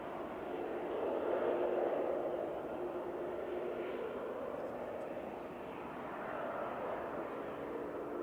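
A TUI airliner passes at Manchester Airport, a faint, distant, steady roar that swells slightly and then eases, with no talk over it.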